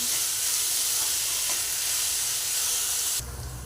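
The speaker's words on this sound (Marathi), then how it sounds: "चिरून घेतलेला कांदा आपल्याला चांगला गोल्डन होतपर्यंत तळायचा आहे" Chopped onion frying until golden for a dhaba-style egg curry, a loud, close, steady sizzle with a hissy steam texture that drops in intensity near the end.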